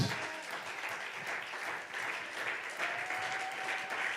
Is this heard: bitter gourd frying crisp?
no